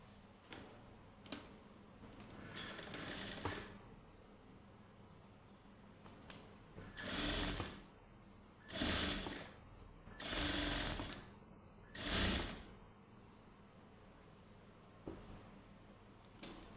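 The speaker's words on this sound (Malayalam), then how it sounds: "ഇനി ഈ പീസിന് ഞങ്ങൾ ഇതിൻ്റെ മുകളിൽ വെച്ചിട്ട് സ്റ്റിച്ചിങ് ചെയ്യാം." A sewing machine stitches pieces of fabric in short bursts of fast mechanical whirring, four distinct runs separated by pauses, close and clear with faint clicks between.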